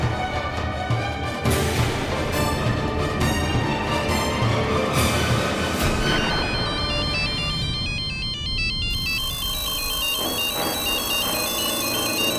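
Phone ringtone playing a repeating electronic melody, loud and steady with no talk over it, the tune shifting to a higher, sparser pattern near the end.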